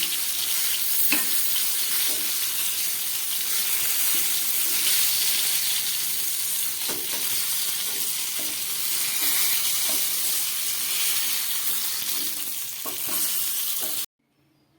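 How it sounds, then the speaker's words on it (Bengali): Steady sizzling of chicken frying in a pan, with scraping and clinking as it is stirred, continuous and close, ending abruptly. "চিকেনগুলোকে এইভাবে নেড়ে চেড়ে আমি ভাজা করে দিলাম"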